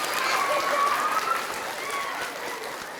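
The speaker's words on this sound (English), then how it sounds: "Give yourselves a round of applause." Schoolchildren clapping together at an outdoor Arbor Day gathering at an elementary school, a dense, steady round of applause lasting the whole moment, with faint voices mixed in.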